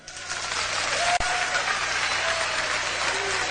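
Men in a comedy show audience clap together, a steady, full burst of applause that holds evenly, with one sharp momentary dropout partway through.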